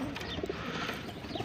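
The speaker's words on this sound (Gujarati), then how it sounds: "તો આપણો બ્લેક કબૂતર કાઢ્યો" A black pigeon let out of its coop, with soft cooing and bird calls close by against a steady noisy background.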